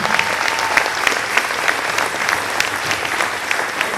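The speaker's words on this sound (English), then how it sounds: "let's give them a round of applause as a community here" Steady audience applause in a school setting at a winter band concert, honoring the janitorial staff, dense and even clapping sustained for the full stretch without voices.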